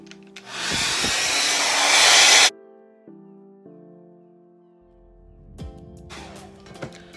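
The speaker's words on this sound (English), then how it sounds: "And then going with my blow dryer." A blow dryer blasts close up, a loud broadband roar lasting about two seconds before cutting off, leaving a soft hum and quiet handling noises as it is aimed at glue on a lace frontal wig.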